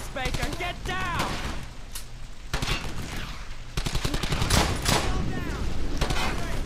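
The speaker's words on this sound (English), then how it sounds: "Machine gun team. They're not all gonna miss, Baker." Rapid machine gun bursts and scattered rifle shots crackle through a World War II battle in Brothers In Arms: Hell's Highway, loud and close, with voices shouting over the fusillade.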